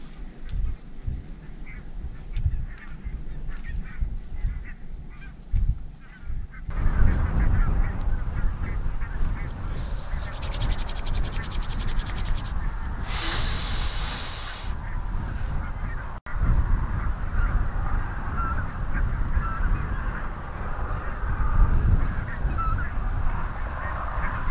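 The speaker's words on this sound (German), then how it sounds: "Da sitzen ein paar ganz coole Blässgänse noch drunter." A flock of greater white-fronted geese honks continuously in the distance, a busy overlapping chorus of calls with wind and outdoor noise throughout.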